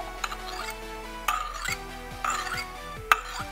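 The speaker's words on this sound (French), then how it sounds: "Nous allons maintenant couper les extrémités" Puff pastry edges being trimmed off in a tart tin for a Parisian flan, a few sharp metallic taps and scrapes of a blade against the tin rim, spaced apart over a quiet background hum.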